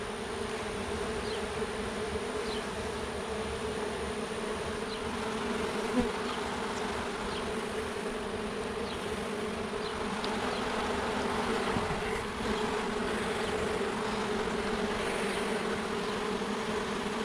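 Honey bees swarm and drone around a removed hive, a dense steady buzzing close to the microphone with individual insects flitting past.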